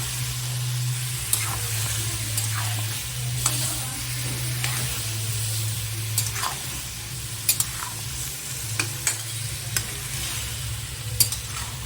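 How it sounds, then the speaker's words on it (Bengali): Chili powder and spices frying in a hot pan with potato for a fish-head muri ghonto curry, a constant close sizzle broken by repeated scraping stirs, with no talking. "ভালোভাবে আমি মশলাটাকে কষিয়ে নেব।"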